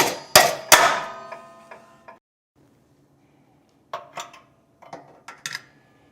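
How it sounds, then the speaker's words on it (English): Sharp metallic clangs of a hammer striking vice grips clamped on a catalytic converter air tube during removal, two loud hits up front, then a pause and a cluster of lighter, ringing taps. "take your hammer, you want to hammer to your left."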